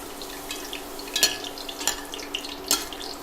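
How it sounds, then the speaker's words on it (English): A poori fries in hot oil, a soft, steady bubbling hiss broken by a few sharper crackles and spits, close by and without voices. "I'm going to gently place the poori in the hot oil and let it come up"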